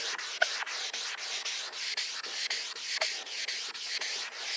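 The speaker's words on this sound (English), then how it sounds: "Now if you want to, you can continue sanding this light." Steady, rhythmic scraping of a sanding sponge rubbed back and forth over a yellowed plastic headlight, close up, with repeated even strokes and no talking.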